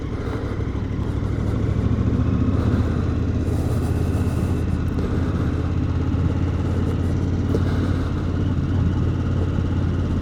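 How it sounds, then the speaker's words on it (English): A new KTM 1290 Super Adventure S on fresh tires rumbles along at a steady pace. The deep, even engine drone is mixed with road and wind noise, with no voices. "So today is a special day because, well, it's the first ride on the new KTM."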